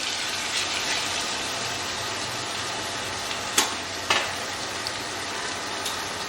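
Chopped onions frying for a Bihari mutton curry, a steady broadband sizzle from the pan throughout, with two brief sharper crackles or stirring clicks partway through and no talk.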